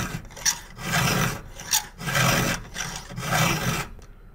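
A hand file rasping across a chainsaw chain cutter to sharpen away damage, five or so rhythmic strokes in quick succession, each a gritty scrape with brief pauses between, close and clear with no voices.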